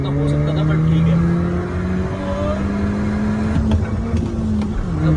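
A Skoda Laura vRS with a 1.8 TSI engine launches in a drag race against an MG ZS EV, its loud engine note climbing steadily in pitch under hard acceleration, heard from close by with some talk over it.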